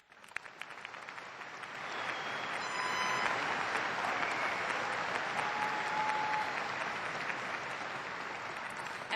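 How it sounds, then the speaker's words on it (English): Audience applause at a 2012 WSU graduation ceremony honoring faculty, starting with scattered claps and swelling into a sustained, dense ovation from a large crowd in a big hall. "I'd like to take a moment to give a round of applause for our faculty members."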